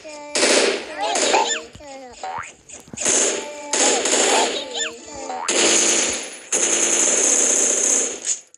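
Bursts of automatic gunfire in the Milkchoco video game come in repeated loud rapid volleys. Excited voices shout between and over them.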